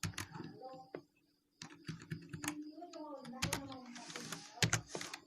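Fingers type a routing command on a computer keyboard during a Cisco router configuration: rapid bursts of close, crisp key clicks, with a brief pause, then more clattering keys, under a voice speaking throughout.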